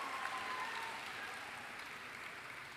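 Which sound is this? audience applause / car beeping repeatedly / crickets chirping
audience applause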